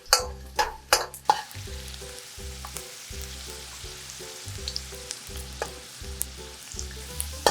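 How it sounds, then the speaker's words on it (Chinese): Garlic stir-frying in a wok over medium heat makes a gentle sizzle with spatula clinks and scrapes, louder at the start. Steady background music plays throughout. "用中火，不宜过大，慢慢的煸出香味，把蒜煸的"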